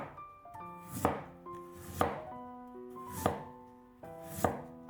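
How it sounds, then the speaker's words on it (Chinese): A knife cuts peeled radish into thick slices on a board, with four evenly spaced crisp chops ringing out near and clear, no voices. "再给它切成厚厚的薄片"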